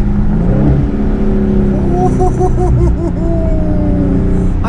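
A 2019 Dodge Charger SRT 392 Scat Pack V8 exhaust barks and burbles through a downshift, loud and close, with the engine note rising and warbling briefly.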